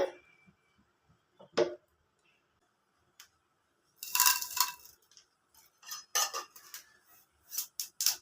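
Mustard seeds popping in hot tempering oil for a pulicha keerai thuvaiyal: scattered sharp crackles and clicks, quiet at first, then denser bursts of spluttering near the end.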